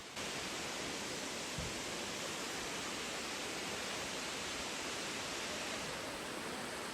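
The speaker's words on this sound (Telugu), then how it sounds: "ఆ వాటర్ ఫాల్ సౌండ్ అయితే కంటిన్యూయస్‌గా ఎంత పెద్దగా వినపడుతుంటదో" Amicalola Falls roars continuously, a dense, even wash of falling water that holds steady and unbroken throughout, with no voices over it.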